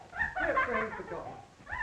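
A dog whimpers and whines in a scene from a 1936 film, a short, close, uneasy sound that blends with nearby voices.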